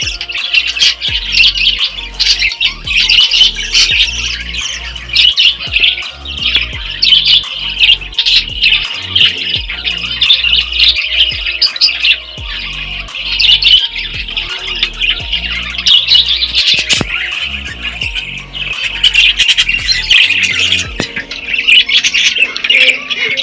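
Pet birds kept in a winter shelter warmed by bulbs squawk and chirp constantly, a loud close chorus of overlapping harsh calls with scattered knocks and rustling, no speech.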